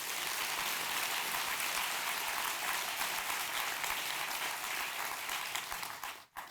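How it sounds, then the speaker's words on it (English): A lecture audience gives a round of applause, dense even clapping that holds steady then cuts off abruptly at the end. "So a round of applause for that"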